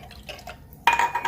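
Cold water poured into warm water in a container, a sudden bright splashing pour starting partway through after a quiet stretch with faint clinks, loud and close, no talking.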